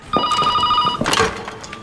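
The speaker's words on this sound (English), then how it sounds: "the sound of a telephone rang nearby" A telephone ringing nearby, a bright electronic ring tone sounding in a rapid trilling burst, followed by a short rustle.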